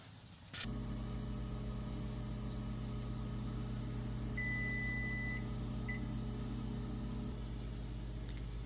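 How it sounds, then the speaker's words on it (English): A kitchen timer is set for 40 minutes while home-canning purple hull peas in a pressure canner on the stove; a steady low hum runs throughout, broken by one long electronic beep and then a short one. "let's set the timer for 40 minutes"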